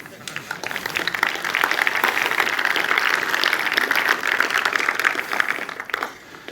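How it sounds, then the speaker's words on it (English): Audience at a conference tech talk applauding, a sustained even round of clapping that swells after a second and fades near the end, with some talk underneath. "if this is not a reason for an audience to give a very nice applause,"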